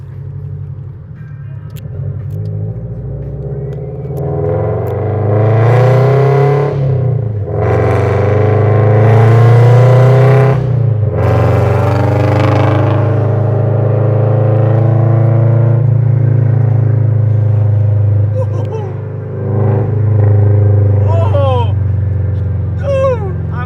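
A 2013 FRS fitted with a Tomei Expreme titanium exhaust revs loudly and close, its raspy note swelling through several long climbs and falling back to a steady rumble.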